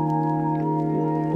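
An ambient trap melody, compressed, slowed to half time, warmed with RC20 and EQ'd, holds as a steady sustained synth chord, smooth and even with no talking.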